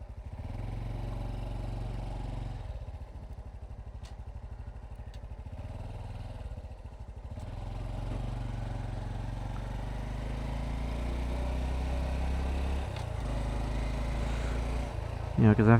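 A Honda Trail 125 motorcycle rides along a road through a park past a boat launch area, its steady mid-pitched engine droning loud and close throughout with a brief dip and revving near the end, while someone talks over it.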